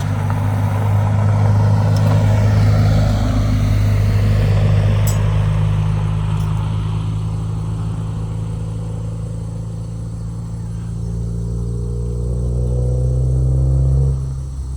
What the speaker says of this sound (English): Don't mind the noise of the car driving by.